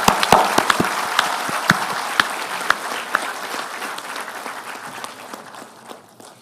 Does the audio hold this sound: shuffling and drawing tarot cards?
no